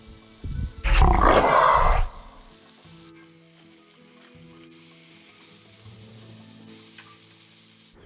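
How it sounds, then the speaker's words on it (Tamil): Washed crab dropped into a pan of softened tomatoes for crab masala gives a sudden loud hissing sizzle, which settles into a quieter, continuous frying crackle with no speech. "தக்காளி நல்லா வதங்கின பிறகு கழுவி வச்ச நண்டை ஆட் பண்ணிக்கலாம்"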